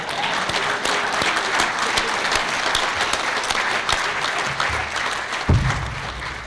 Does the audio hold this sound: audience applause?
yes